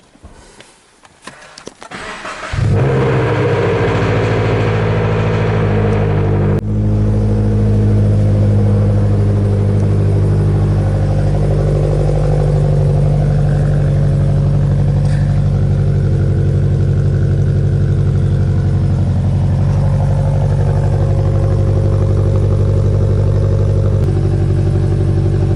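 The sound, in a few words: Subaru BRZ cold start idling with JDL header exhaust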